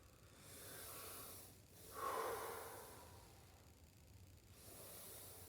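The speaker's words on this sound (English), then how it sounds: "inhaling and exhaling" Slow, deliberate breaths during a posterior hip mobility stretch at a table: a soft exhale, a louder rushing inhale-exhale in the middle, then quieter breathing, close and faint.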